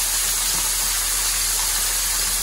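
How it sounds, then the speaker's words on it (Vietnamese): Hot oil spooned over a large fried grouper, skin side down in the pan, gives a loud, steady, close sizzle that hisses continuously without a break. "Mình múc dầu bằng dội lên trên."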